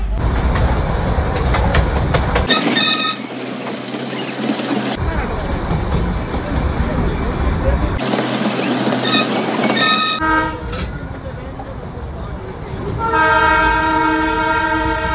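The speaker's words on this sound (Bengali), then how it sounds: "ওদিকে এসে গেছে স্টিম ইঞ্জিন, এখন আমাদের এই ট্রেন ছাড়া হবে।" Darjeeling toy train with its steam engine at Ghum station, a loud continuous rumble of the running train with repeated sharp whistle toots and rhythmic chuffing, close by, with no talk.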